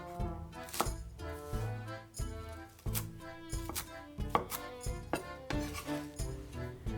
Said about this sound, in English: And chop 4 garlic cloves.